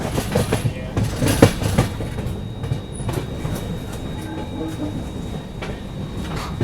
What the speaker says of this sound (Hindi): तो अभी देखो लूप लाइन पे लगाया जा रहा है अपनी ट्रेन को।